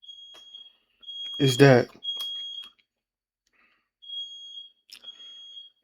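A smoke detector fire alarm chirps in repeated high, piercing beeps, cut off by a brief spoken question partway through and then resuming in short bursts.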